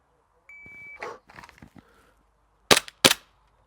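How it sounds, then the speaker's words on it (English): Two sharp pistol shots crack close and loud in quick succession during a shooting drill, following a timer beep and some muffled handling noise. "all shots on target, shooting at the head because I'm pretty close"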